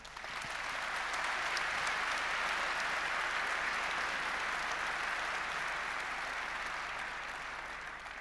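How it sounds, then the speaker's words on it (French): A seated audience at a housing policy debate applauds the minister, producing dense, sustained clapping that swells quickly and holds steady for several seconds before starting to fade. "je vous demande vraiment de l'applaudir"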